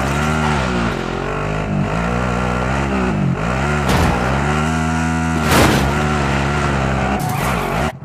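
A car driven in the Call of Duty Modern Warfare video game, its engine droning loud and steady with rising and falling revs and brief tire-scuff bursts throughout.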